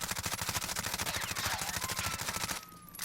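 Rapid automatic gunfire in the video game Call of Duty Modern Warfare, a steady close burst of evenly spaced shots lasting nearly three seconds, then stopping abruptly, with no speech.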